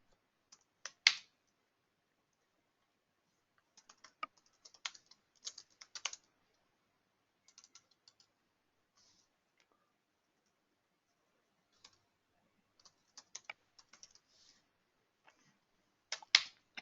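Keys clatter on a computer keyboard in scattered bursts of quick taps separated by pauses, close and crisp against near silence, with a few louder clusters near the start and end.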